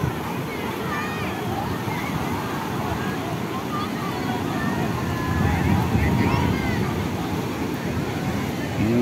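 Sea breeze and surf on the beach at Puri under a cloudy sky: a steady broad rush of wind and breaking waves, fairly loud and close, with faint voices in the background.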